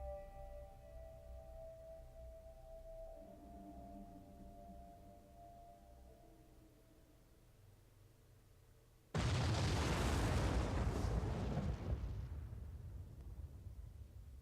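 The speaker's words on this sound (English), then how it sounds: "The explosion of the quantum computer that eventually engulfs the world and destroys 8 billion people." In the game Zero Time Dilemma, a quantum computer explodes with a sudden loud, broad roaring blast that cuts in after a quiet, low musical stretch and then sustains before slowly fading.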